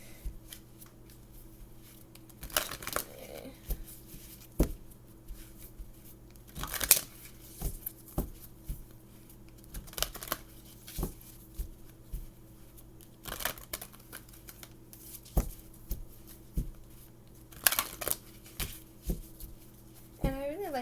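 Tarot cards being shuffled by hand, repeated papery riffles and flicks in irregular bursts, close and fairly quiet, with someone speaking softly between them and a low hum underneath.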